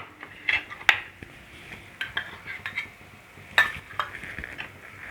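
Chicken handi gravy with curd just added, stirred in a pot, giving soft scraping and light clinks of a spoon against metal at an irregular rhythm over a faint sizzle, close and quiet.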